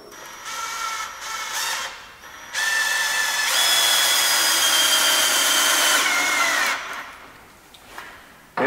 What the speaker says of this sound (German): jetzt prügeln wir noch zur Sicherheit zwei Schrauben hochkant rein, runter